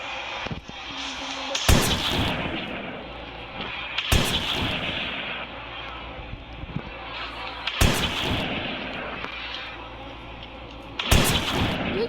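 In the Granny Chapter 3 video game, Grandpa fires a gun at close range: four sharp, loud bangs spaced about three seconds apart over a quieter steady background.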